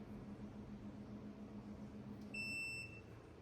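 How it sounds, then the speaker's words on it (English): A Growneer indoor garden system gives a short high electronic beep as it powers on, faint against a steady low room hum. "It automatically beeps on when you turn it on."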